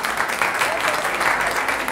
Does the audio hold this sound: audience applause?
yes